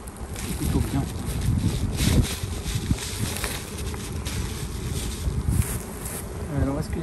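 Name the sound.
honey bees buzzing at an opened hive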